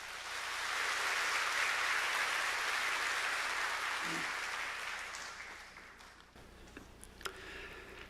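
A church congregation at a Sunday worship service gives a big round of applause to welcome a retired pastor, a dense, steady clapping that holds for several seconds, fades out, then leaves a few scattered taps.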